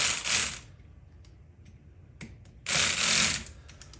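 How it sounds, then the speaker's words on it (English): Bursts of rapid mechanical ratcheting come from clamp nuts being tightened on an ARB compressor mount in a Jeep JK, two short runs of clicking separated by quiet pauses with small knocks. "I'm just gonna snug those clamp nuts back up."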